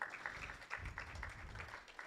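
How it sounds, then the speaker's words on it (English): Applause from a small audience at a community event during a raffle prize announcement, steady and fairly quiet, with some rhythmic clapping for about two seconds. "Round of applause for Belle"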